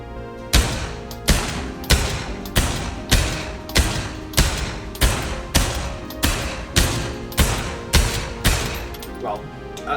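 Two Desert Eagle pistols fired at a virtual reality shooting range: a steady series of about fifteen heavy, booming shots at roughly even intervals, loud and close with long ringing tails.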